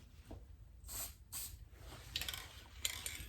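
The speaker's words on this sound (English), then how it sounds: "You just press and spray a little and gets rid of the paint out of the nozzle a little." Short hissing bursts from an upside-down spray paint can being pressed to clear its nozzle, several quiet separate puffs close by during a die-cast Dinky Jaguar repair.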